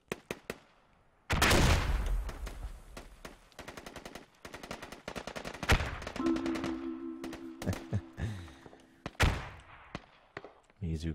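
Automatic gunfire in the tactical shooter Squad, a league match between 303rd and RedCoats: loud rattling bursts and single cracks, some close and some distant, broken by short pauses with a faint tonal hum partway through.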